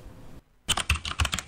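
A radio jingle opens with a brief hush, then a crisp, rapid burst of computer keyboard keystrokes clattering close and loud.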